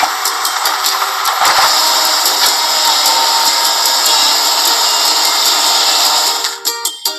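Excavator digging a pit in a house-building truck video game, a loud steady mechanical whirring drone held throughout, breaking into choppy bursts at the very end.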